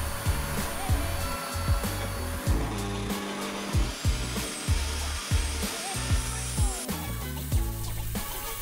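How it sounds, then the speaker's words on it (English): A table saw trims the ends of a plywood board to size, a steady high whine over rhythmic low knocks and thuds, close and fairly loud with no talk. "Both ends were cut to size on the table saw."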